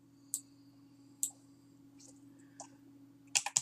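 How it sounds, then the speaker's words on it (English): Several sharp computer mouse left clicks, spaced irregularly over a steady low electrical hum, with a quick cluster of clicks near the end, while text in a font-size field is selected. "Just left click and highlight that."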